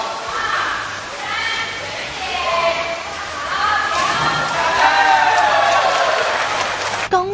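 A crowd at a diving training pool cheers and applauds after a diver's jump from the 7-metre platform, a rising roar of voices and clapping with voices talking over it.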